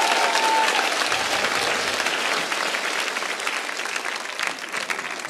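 A studio audience on a comedy game show bursts into applause, a thick, continuous clapping that stays loud throughout and eases slightly toward the end.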